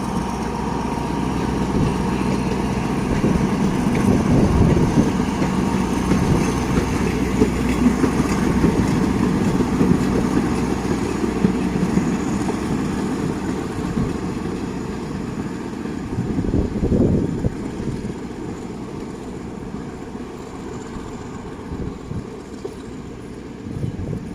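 A train's engine rumbles and labors as it pulls away from Pak Tho station, Thailand, a long, loud, steady drone with rattling undertones that gradually eases toward the end.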